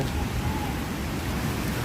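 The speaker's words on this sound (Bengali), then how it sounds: "স্বস্তির বৃষ্টি অবশেষে শুরু হলো" Dense, steady hiss of rain pours down continuously, a broad rushing wash of sound with no voices.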